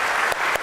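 Brief, dense applause from a seated audience at a business luncheon, steady clapping throughout the short moment.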